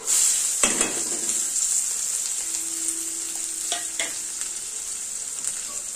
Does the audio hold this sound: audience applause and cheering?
no